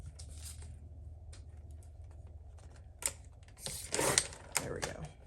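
A planner page being trimmed down, with a run of short cutting and paper-handling clicks, faint at first and then louder and denser near the end; no talk.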